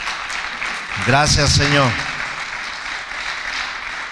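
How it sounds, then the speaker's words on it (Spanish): A church congregation applauds after a sermon on prayer, a short burst of clapping under a spoken line of thanks, with steady room noise before and after. "Dale un aplauso fuerte al Señor, por favor."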